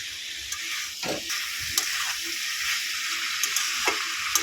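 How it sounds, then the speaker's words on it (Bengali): Rui fish curry base of potato and pointed gourd sautéing in a pan, a steady soft sizzle with occasional scrape and stir noises, close and moderate, no talking. "ভালো করে কষিয়ে নেব"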